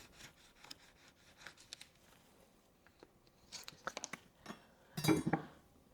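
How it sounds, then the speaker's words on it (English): Knife blade slicing through cherry tomatoes held between two plastic deli lids produces faint crunchy cuts and rubbing scrapes, building to a louder crisp crunch near the end. "hold it down while you take your knife and slice through them"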